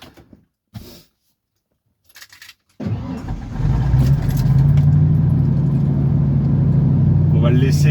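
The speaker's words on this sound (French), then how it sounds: "on va démarrer une pick-up déjà" A pickup truck engine cranks and catches after a few quiet moments with brief talk, then settles into a loud, steady idle up close.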